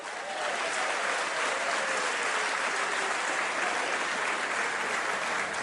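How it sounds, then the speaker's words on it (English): Sustained applause from members of parliament fills the chamber, a dense, even wash of clapping holding steady throughout at moderate distance, with no distinct voices. "What you hear there is a lot of applause"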